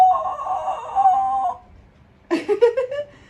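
A rooster crows in one long drawn-out call, then gives a burst of choppy clucking notes after a short pause; clear and fairly close with no talking.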